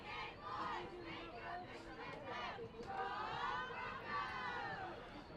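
A girls' team cheering together at the end of a high school game in the Oak Stick Classic, rhythmic group shouting heard from a distance amid crowd noise.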